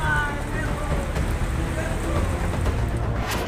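Heavy pounding rain in Rajgarh, Madhya Pradesh, a dense continuous roar of downpour, loud and unbroken, with a wind-like rumble throughout.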